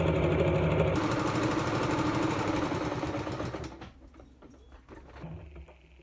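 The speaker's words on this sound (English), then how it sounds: "Sew over it a couple of times." A sewing machine stitches elastic onto a fabric face mask, making a steady close whirring run for nearly four seconds before it stops, leaving quieter handling and rustling sounds.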